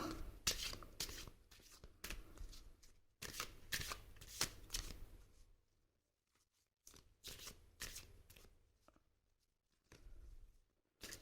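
A deck of tarot cards shuffled by hand in repeated riffling bursts, close and fairly quiet, with a pause in the middle before the shuffling resumes; no one speaks.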